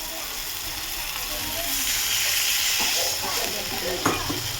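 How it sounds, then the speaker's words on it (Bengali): Water is poured into spice masala frying in oil in a pan, and the steady sizzle swells into a loud rushing hiss, then breaks into bubbling and a sharp clack near the end. "এবার আমি জল ঢেলে দেবো, তেল ছেড়ে গেছি মশলা থেকে।"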